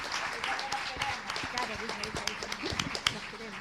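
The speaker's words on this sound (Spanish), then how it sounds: "les vamos a dar igual un aplauso porque lo merecen" An audience claps steadily, a dense patter of many hands at moderate volume, with voices mixed in underneath.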